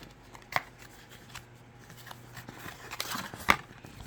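Oracle cards from a Coastal Curiosities deck handled at close range, with a few soft sharp snaps and rustles spaced apart over a quiet background.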